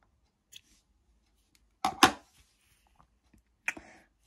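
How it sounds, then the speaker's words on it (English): Scissors snip through yarn during a crochet project, with a few sharp, close cuts grouped in the middle and another near the end, and quiet between them. "we'll cut my yarn"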